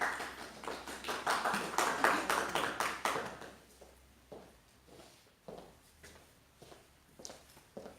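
Short burst of audience applause welcoming a speaker at a Bible study session, dense clapping for about three seconds, then fading into a few scattered, isolated claps.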